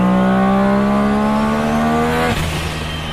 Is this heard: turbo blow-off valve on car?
yes